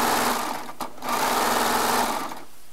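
A Baby Lock serger stitches fabric at high speed, a close, loud, steady mechanical whir that briefly dips and restarts before running on and slowing near the end.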